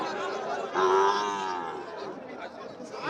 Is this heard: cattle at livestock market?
yes